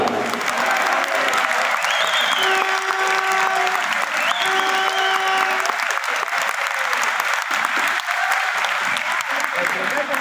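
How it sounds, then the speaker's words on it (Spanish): A crowd applauds at a political event in Cali, Colombia, steady continuous clapping throughout, with faint voices and cheering rising within it. "Un aplauso, por favor."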